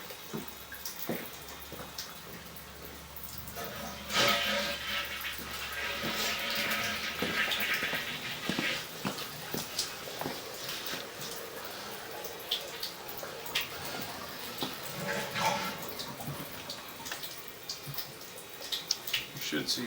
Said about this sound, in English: I'm going to go ahead and flush this toilet in here also.